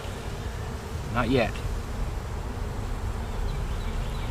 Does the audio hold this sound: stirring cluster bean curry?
no